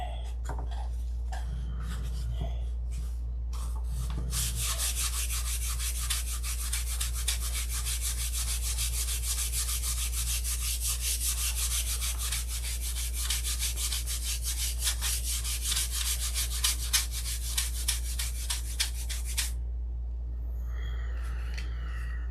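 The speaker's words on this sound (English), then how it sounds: "This is the first sanding." Steady rhythmic sanding of a Sig Magnum model airplane, a continuous scratchy rubbing stroke after a few brief handling noises, close and alone for most of the stretch before stopping near the end.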